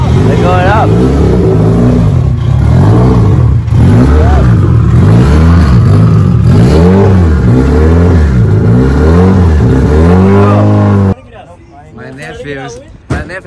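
Honda Civic EK engine revving hard in loud, repeated rising and falling pulls for about eleven seconds, then cutting off abruptly, leaving quieter background and people talking.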